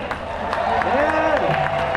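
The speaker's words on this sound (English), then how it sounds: "Big round of applause for Craig Kelly." A crowd at an outdoor freedom march rally gives a big round of applause for Craig Kelly: steady, dense clapping with cheering that holds at a constant level throughout.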